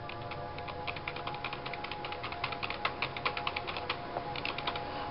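Rapid typing on a computer keyboard, a close, quiet flurry of clicking keystrokes in uneven bursts over a faint steady background hum, with no talk.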